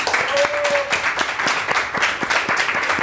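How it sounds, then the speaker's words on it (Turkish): A studio audience on a cooking show applauds steadily, a close, full wash of clapping with a brief tonal whistle-like note near the start. "Bir alkış"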